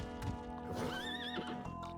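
A horse whinnies in the Bloodstained video game, a clear rising neigh over clip-clopping hooves and a steady layer of game music.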